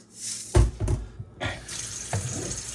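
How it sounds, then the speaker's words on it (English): Black beans are rinsed under a running kitchen tap, with water splashing and gurgling close by in short uneven surges. "I'm going to rinse them"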